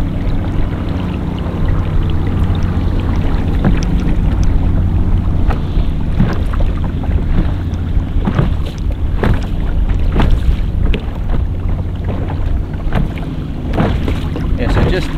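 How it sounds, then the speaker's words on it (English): A kayak paddles up a tidal creek in the Redlands, with steady water and wind noise throughout and repeated soft splashes and drips as the paddle strokes the water close to the boat. "paddling up Mugarapum Creek"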